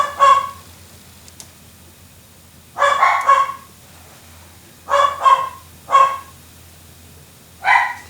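Dogs bark from another room in short clustered bursts, a double bark then single and paired barks spaced a second or two apart, moderately loud over a quiet indoor hum.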